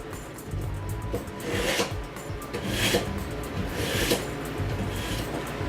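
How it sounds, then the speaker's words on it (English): A kitchen knife is sharpened in a home cooking setting, with rough rasping strokes repeating at a steady rhythm over a low background hum, fairly faint and without talk. "Okay, so our knife is sharpened"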